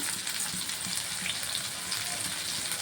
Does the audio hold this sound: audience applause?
no